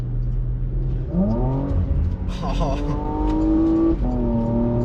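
Porsche Macan GTS SUV in sport mode pulling out to overtake, the engine revving up in rising pitch sweeps with a shift partway through, close and loud inside the cabin.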